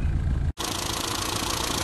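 A warm Rover Mini Cooper 1.3i engine idles steadily with a low rumble, briefly cutting out before resuming with a brighter, noisier steady drone.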